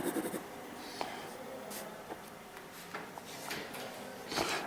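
Ballpoint pen shading on paper for a perspective drawing, soft repeated scratchy strokes, quiet and close, with no talk.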